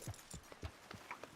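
Horse hooves clop in Red Dead Redemption 2, an even plodding rhythm of soft, low thuds coming closer, faint and alone.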